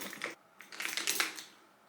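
A Lady Dior handbag is handled up close, giving faint, crisp clicks and rustles of leather and metal hardware in a short run of small taps.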